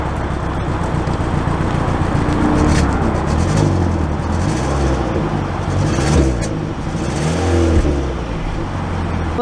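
A 2022 Hyundai Sonata SEL pulls away on a road, its engine and tire rumble steady and fairly loud inside the cabin, swelling a few times as it gathers speed, with faint speech underneath.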